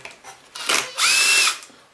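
A Torx 20 driver whirs briefly while undoing a screw on the back of a Kirby Avalir vacuum cleaner, two short buzzing bursts up close with the second longer and louder.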